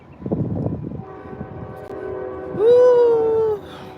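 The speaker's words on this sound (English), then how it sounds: "But the train is going the opposite direction. It's going the opposite direction today." A passing train rumbles at a distance, then its horn blows one long steady tone for about a second, loud and clear over the low rolling noise.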